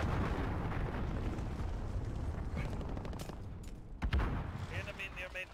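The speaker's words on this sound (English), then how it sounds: "Enemy cruise missile." A cruise missile strike in Call of Duty: Modern Warfare makes a sustained, rumbling roar of explosions and debris, heavy and continuous throughout with a sharper burst near the end, mixed under faint game sounds.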